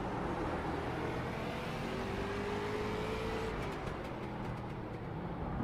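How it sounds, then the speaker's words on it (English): Race car on a track with tires straining for traction, a steady loud engine-and-road drone with a brief rising whine partway through, continuous throughout. "You can hear the tires working really hard trying to keep the traction underneath of him."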